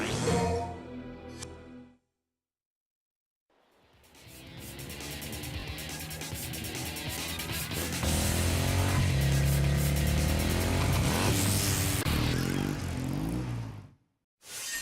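Motorcycle engine from a Devil May Cry 2 cutscene, a roaring whine that builds and holds loud for several seconds after a brief silence, then cuts off abruptly.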